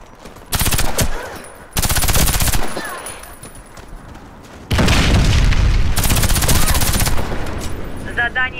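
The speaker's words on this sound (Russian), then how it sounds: "Они взорвали бомбу." Warface first-person shooter match on a factory map: a loud bomb blast and sustained bursts of machine-gun fire in heavy repeated clusters, with brief quieter gaps between volleys.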